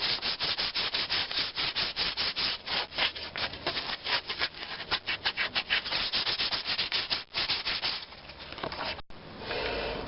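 Hand sanding a wooden axe handle: quick, rhythmic rasping strokes, close and fairly quiet, run continuously for several seconds before a brief pause and a final rub.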